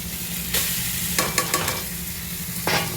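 Banana blossom frying in cooked spice masala, a steady sizzle broken by a few close scrapes and stirs of a spatula.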